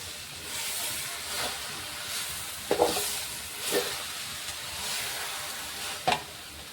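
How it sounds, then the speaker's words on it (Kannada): Leafy greens frying in a pan and being stirred, a soft continuous hiss and sizzle broken by a few distinct scraping stirs, close up with no voices. "ಇಷ್ಟು ಸೊಪ್ಪನ್ನು ನಾನು ಸೇರಿಸಿದೆ ಇವಾಗ ನೀಟಾಗಿ ತಿರುವೋಣ"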